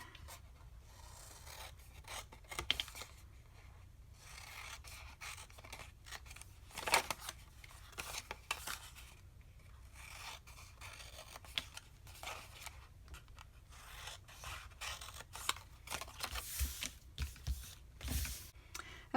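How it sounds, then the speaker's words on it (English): Scissors snipping corner triangles off a 6x6 sheet of paper for a lollipop holder, a run of quiet close crisp snips and rustles spread irregularly, with no voices. "I'm going to cut off these corner triangles."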